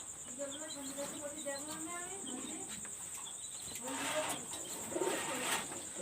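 Soft, drawn-out pigeon coos wavering over a loud insect drone and distant chirps, with a brief stronger cooing burst toward the end; the bird is a female fancy high-flyer pigeon of a golden Rampuri type.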